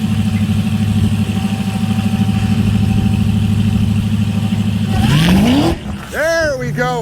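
A race car engine idles with a steady drone, then revs hard as the car launches with its tires spinning. The engine pitch climbs in quick swoops before cutting off abruptly, and a voice sounds briefly.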